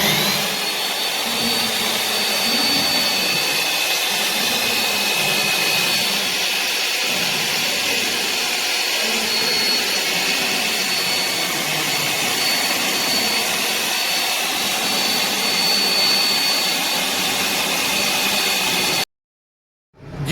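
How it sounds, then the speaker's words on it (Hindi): Electric grinder blending chicken haleem, a loud, constant high-pitched whirring roar that runs steadily for about nineteen seconds and then cuts off abruptly into silence. "ये भी मैं आपको दिखाता हूँ कि ग्राइंडर किस तरह करना है"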